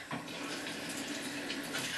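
Water is poured into an Alacris automatic soap dispenser, a faint, steady splashing trickle that runs without a break for a couple of seconds.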